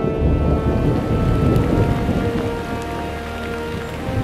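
Monsoon downpour over the forested mountains of the Western Ghats in India, a heavy, constant roar of rain layered with low rolling thunder, close and loud, fading slightly toward the end.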